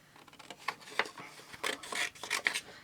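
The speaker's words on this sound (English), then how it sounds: "So let us fussy cut this out" Scissors snip around a stamped card image in a series of small, close, irregular cuts and paper rustles, quiet and without talk.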